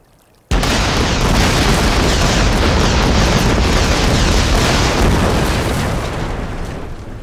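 A cartoon explosion blows up a sniper tower in a Boom Beach animation, one loud, sustained booming blast that bursts in suddenly and rumbles on for several seconds before slowly easing off.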